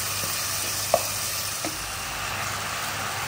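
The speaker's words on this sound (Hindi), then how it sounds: "अब मैं भून लूँगी और फिर मैं आलू फ्राई करूँगी" Sautéing in a pan in a home kitchen, then potatoes frying in hot oil, a steady close sizzle and crackle with a couple of soft clinks of a utensil, no talking.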